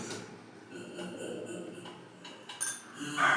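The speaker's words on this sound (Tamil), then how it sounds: "கேரட்டு வெங்காயம் போட்டு கிளறணும் நல்லா கிளறி விடணும்" A spoon stirring carrot and onion in a bowl of omelette mixture, giving light close clinks and scraping taps of moderate loudness.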